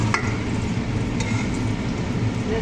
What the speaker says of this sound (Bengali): তেল রয়েছে, তেলের মাঝে পেঁয়াজ দিলাম